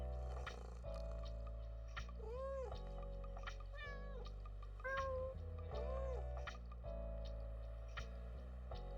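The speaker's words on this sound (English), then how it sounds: "There's the cat." A cat meows repeatedly in the video game Tiny Bookshop, several clear rising and falling cries spaced over a gentle backing of game music and a low hum.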